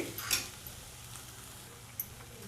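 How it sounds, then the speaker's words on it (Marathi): Cabbage manchurian is sautéed in a pan over low heat, with a soft background sizzle broken by a few light clinks of a utensil against the pan, fairly quiet and close. "आता बारीक गॅस करून हे मी असं परतवून घेते"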